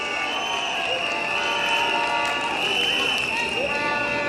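Crowd at a political rally in Libreville applauding and cheering, a dense continuous roar of clapping and voices with shouts rising above it, steady and loud throughout.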